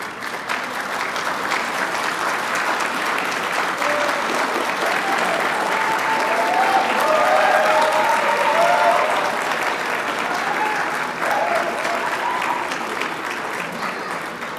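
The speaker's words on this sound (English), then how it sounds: "thank each and every one of them with a big round of applause" Sustained applause from a graduation audience fills the hall for about fifteen seconds, steady and dense throughout, swelling slightly in the middle, with a few voices faintly audible through the clapping.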